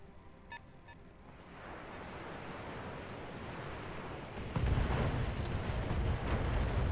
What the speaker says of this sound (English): all of this indirect fire is gonna land home